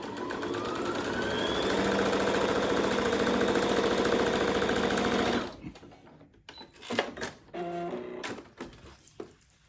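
A sewing machine runs a straight 5 mm top stitch across fabric for a stoma bag cover, a steady loud mechanical whir for about five seconds before stopping, followed by quieter handling clatter.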